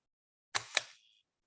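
A camera shutter fires while pictures are taken, giving two rapid crisp clicks in quick succession with a short whirring tail, close and clear against silence.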